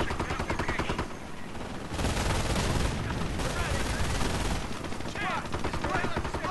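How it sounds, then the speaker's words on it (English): Sustained machine gun fire in the WWII strategy game Company of Heroes: Tales of Valor, rapid bursts of gunshots running loud throughout, with battlefield clutter and other weapon reports mixed in. "my engineer team was getting hit by MG fire"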